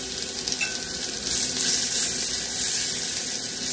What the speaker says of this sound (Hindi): तेल गरम हो गया हमारा तो इसमें हम जीरा डाल देंगे।